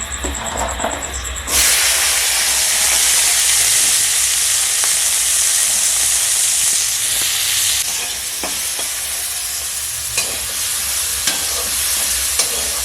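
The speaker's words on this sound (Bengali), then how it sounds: "এবার ভেজে নেব বিন কড়াই।" A burst of loud hissing as green beans hit hot oil in a wok, then continuous sizzling frying with occasional clinks of a stirring utensil.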